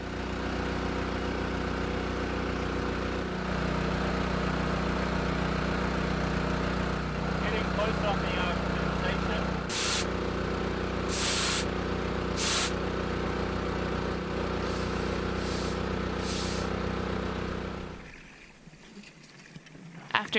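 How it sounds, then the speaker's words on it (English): A dive compressor filling scuba tanks runs with a loud, steady mechanical drone and hum, punctuated by several sharp hissing bursts of air before it winds down and falls quiet near the end. "we are excited to put our new dive compressor to use"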